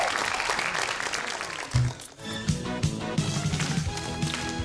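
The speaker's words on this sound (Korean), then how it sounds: "무대로 일단 박수로 모시겠습니다" Studio audience at a Korean TV talk show applauds to welcome a dancer to the stage, a dense clatter of clapping that fades as a bright music track kicks in.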